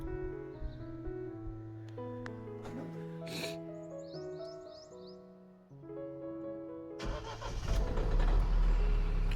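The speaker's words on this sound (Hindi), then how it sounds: "एक बार गाड़ी स्टार्ट कर दूँ," A car on a Ladakh mountain road trip cranks and fires up near the end, its engine catching into a loud, close rumble after several seconds of quieter tonal background sound.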